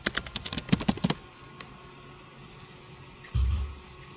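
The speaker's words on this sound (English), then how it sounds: "I'll type it in here." Quick burst of typing on a computer keyboard, a rapid run of close, crisp key clicks for about a second, then near silence with room tone, ended by a brief low thump.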